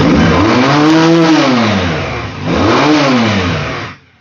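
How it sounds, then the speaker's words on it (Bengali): A 190-section single-swing motorcycle engine roars close and loud in two strong rev sweeps, rising and falling, then cuts off, with no talking. "সাউন্ড কি মনে হয় 500 সিসি স্টার্ট হয়েছে।"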